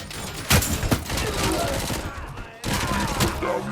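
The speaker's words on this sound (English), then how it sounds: "I'm gonna hope they're mostly shooting at him for this section." Dense gunfire fills a firefight in the Robocop: Rogue City video game, with sharp shots and rattling bursts over a constant din and a brief lull near the end.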